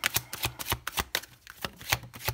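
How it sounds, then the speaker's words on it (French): Tarot cards laid down one by one on a table, making a series of crisp, close slapping and brushing flicks at a quick uneven rhythm, quiet and alone. "On pose les 6 cartes."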